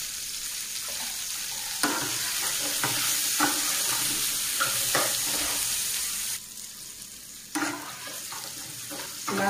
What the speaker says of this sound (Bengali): তেল গরম হয়ে গেছে, আমি এখন কচুরমুখীগুলো ভেজে নেব।